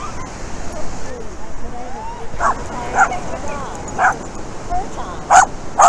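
Several dogs at a dog park by the water yip, bark and whimper in short bursts near and far, with a voice faintly in the background.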